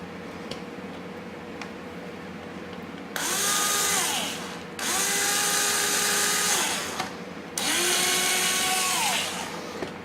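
A power drill bores into a QuadLugs 200 Mini+ quadcopter frame in three loud, close bursts of a couple of seconds each, the motor whining up and down with short pauses between runs.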